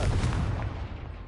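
A Confringo explosion spell in Hogwarts Legacy lands as one loud, close burst that rumbles and fades away within about a second.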